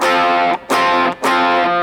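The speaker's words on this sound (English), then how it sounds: "Here is that rat fuzz" Heavily distorted electric guitar chords through a Rat fuzz model on a Line 6 M13, three sustained strums with brief gaps between them, thick fuzzy, nasal, mid-heavy tone, no voices.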